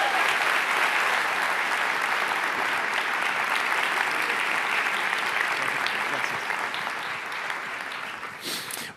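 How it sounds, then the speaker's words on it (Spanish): Sustained warm applause from an audience welcoming Agustín Laje to a morning event in Miami, a dense, steady wash of clapping that continues for the full stretch and fades slightly at the end. "si pueden recibir con un caluroso y fuerte aplauso a Agustín Laje"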